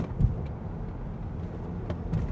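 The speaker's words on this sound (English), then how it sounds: "let's see if I can get a downshift here to second" A VW Mk8 GTI engine gives a low, steady rumble from inside the cabin as the driver downshifts to second gear, with a slight swell at the very end.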